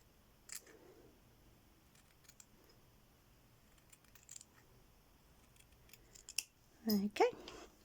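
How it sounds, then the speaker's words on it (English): Scissors trimming paper for a VE Day themed award rosette, a few faint snips early, then two louder close cuts near the end, with quiet background and light talk. "Let's just trim this down."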